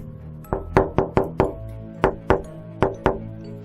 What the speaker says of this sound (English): all of a sudden there was a knock on the driver's side window